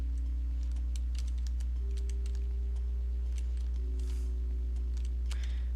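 Computer keyboard keys clatter in quick irregular bursts of taps while playing the classic game DOOM, close and fairly clear over a steady low hum from the computer and game audio.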